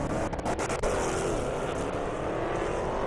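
Hellcat cars drag racing down a half-mile airport strip at Indy, a loud, steady roar of engines with a brief rushing burst near the start, heard from trackside without talk.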